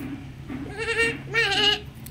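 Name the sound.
child imitating sheep bleat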